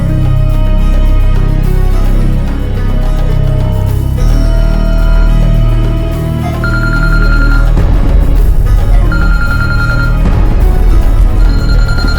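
A telephone rings repeatedly over a steady background of music, loud and continuous, with no voices.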